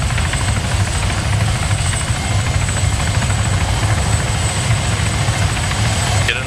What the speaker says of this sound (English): What the fuck is this chopper doing?